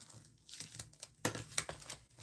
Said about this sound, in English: let's, open up these cards and envelopes and see what's in here.